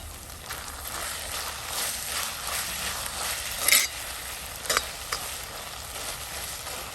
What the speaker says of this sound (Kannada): ಈಗ ಇದಕ್ಕೆ ಹಾಕ್ತಾ ಇದ್ದೀನಿ ಸ್ವಲ್ಪ ಕರಿಬೇವಿನ ಸೊಪ್ಪು.